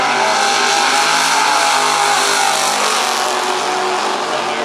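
Drag racing cars, a Nova among them, launch hard down the strip at Pomona, California, a loud sustained engine roar that holds steady and fades slightly at the end.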